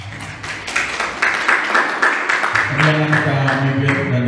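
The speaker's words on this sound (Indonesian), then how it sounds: "Oke, beri tepukan." Church congregation clapping during an online worship service, a loose burst of hand claps that builds and holds, with a voice or music tone entering partway through.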